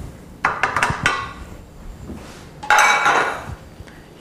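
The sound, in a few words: stuffed flank steak being loaded into a clean pan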